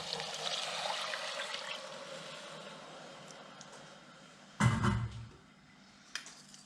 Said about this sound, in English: I'm going to add the rinsed lentils. The broth.